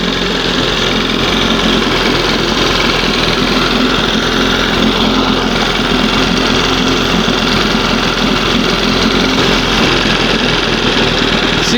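An old outboard boat motor runs loud and close, a dense unbroken droning buzz with steady engine vibration throughout.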